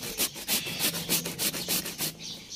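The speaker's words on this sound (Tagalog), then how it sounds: "nanghiram po tayo ng kayuran sa kapitbahay kay Ate Catherine" Papaya being grated on a hand grater, a quick rhythmic series of rough scraping strokes, about ten close, loud rasps in a steady back-and-forth pattern.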